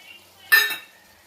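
A spoon makes a single short scraping clink in a pot while yogurt is stirred into chicken for a spicy chicken pulao, then it fades to quiet.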